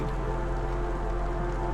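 Charged rain falls steadily in the video game Against the Storm, a dense, even hiss of rain on surfaces with a low rumbling bed, loud and continuous with no voices.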